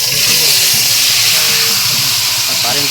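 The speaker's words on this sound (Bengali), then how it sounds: "আমাদের এখন মাংস কড়াইতে দেওয়া হচ্ছে" Chicken meat, country hen, dropped into a hot kadai over a village stove sizzles with a loud, steady broadband hiss that fills the whole clip, while voices murmur in the background.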